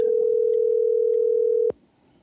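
A steady telephone line tone hums loud and unbroken for under two seconds as a call comes in to a radio show, then cuts off abruptly into quiet room noise.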